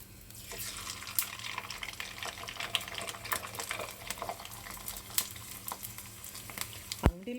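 Colored sago (sabbakki) sandige fry in hot oil with a constant sizzle and scattered sharp crackles and spluttering pops, close and fairly quiet, ending in a louder clatter.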